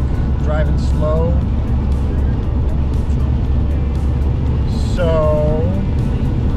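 A car crawls slowly through heavy traffic in pouring rain, with a steady wash of road and rain noise throughout and a couple of brief tonal chirps near the start and again near the end.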